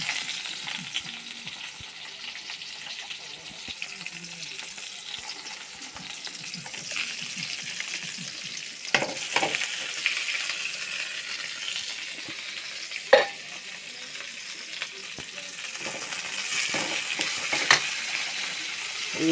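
Eggplant pieces with fenugreek, onion, ginger and garlic cook in a pan with a steady soft sizzle, broken by a few scattered clinks and scrapes of stirring; no talking.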